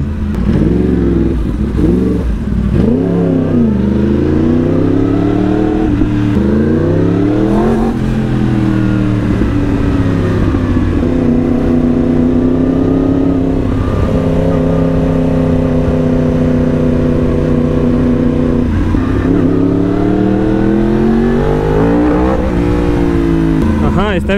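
A fast motorcycle ridden along roads in Thailand, its engine loud and close throughout, pitch rising and falling with repeated revving and acceleration over steady wind and road noise.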